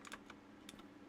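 Faint, quick keystrokes on a computer keyboard, a short burst of light clicks heard at low level against a steady background hum.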